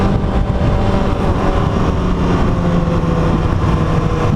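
Engine of a 2019 Kawasaki ZX6R motorcycle revving steadily under load as it quick-shifts through gears, a loud, continuous roar with no gaps and wind noise over it.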